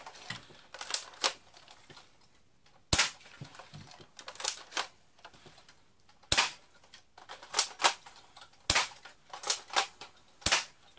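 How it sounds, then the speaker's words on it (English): A spring-powered Umarex L85A1 airsoft rifle is cocked and fired repeatedly, sharp close snaps and clacks of the spring mechanism arriving in irregular bursts with short quiet gaps between shots. "this is a spring powered gun, so you have to cock the gun each time"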